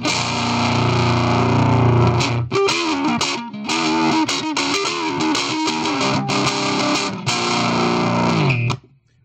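Electric guitar through an Electro Harmonix Hot Tubes overdrive pedal, set with more volume and gain, plays a loud, gritty run of strummed chords and riffs with short stops, then cuts off near the end.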